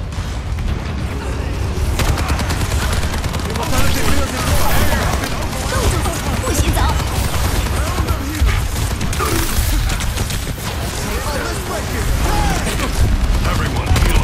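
Soldier 76's rifle in the team shooter Overwatch 2 fires in sustained volleys amid heavy battle noise, with booms, impacts and mechanical clatter, and in-game voices under the chaos.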